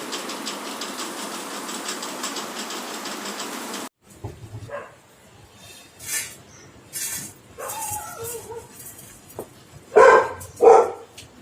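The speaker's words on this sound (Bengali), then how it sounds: "ওই রাস্তায় কোন ডগি চিৎকার করছে তাই শুনে আমারটাও চিৎকার করছে" A steady mechanical rumble cuts off, followed by scattered barks from a street dog and a house dog, with two loud nearby barks close to the end.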